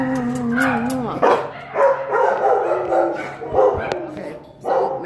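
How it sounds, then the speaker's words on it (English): A dog barks and yips in short bursts while someone talks soothingly over it, the barks close and fairly loud between her words. "Okay, so maybe slightly dog reactive."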